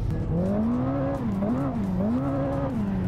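Ferrari in the Assetto Corsa racing game sliding on all four tires, a steady engine drone with a wavering pitch that rises and falls through the slide, loud and continuous with no talk.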